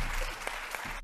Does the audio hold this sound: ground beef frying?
no